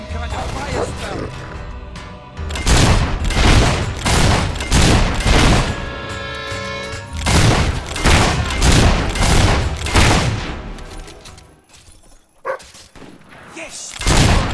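Combat in Fable 3 with a fire spell cast amid a dense run of loud, repeated blasts and thuds, one burst after another, over game music and voices.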